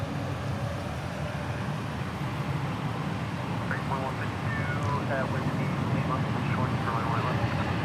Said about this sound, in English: Frontier taking the runway now on an A321.